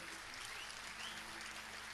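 Quiet, steady applause from an audience at a live singing performance honoring a joker, a continuous soft wash of clapping with no pauses, heard from a distance.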